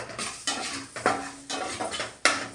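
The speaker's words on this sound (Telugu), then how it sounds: "దీన్ని మనము మంచిగా ఇలాగా ఫ్రై చేసుకుంటూ" Cumin, mustard and fenugreek seeds fry in a pan while a metal spoon scrapes and clanks against it in quick, uneven strokes over a soft sizzle.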